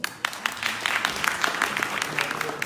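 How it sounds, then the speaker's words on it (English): Audience applause welcoming a woman onto the stage at a technology partners presentation, a dense steady wash of clapping with a few sharper claps standing out, moderately loud and continuous throughout. "welcome her on stage with an applause"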